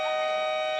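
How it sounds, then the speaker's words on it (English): A loud, steady electronic horn blares continuously with a sustained tonal buzz at a women's under-17 basketball game, Spain versus Mali, with no talking. "So we can hear the siren sounding in the background."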